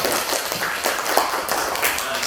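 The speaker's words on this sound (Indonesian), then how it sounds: "tepuk tangan dulu untuk kalian semua" A classroom of students applauding after group presentations, a brief burst of scattered hand claps close by with a little voice mixed in.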